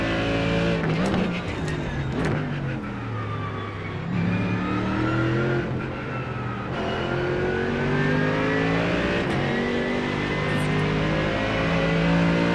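A Ford Mustang GT3 race car in iRacing at Silverstone accelerates hard, its engine climbing through gears with a rising, falling roar that stays loud and continuous across the whole stretch.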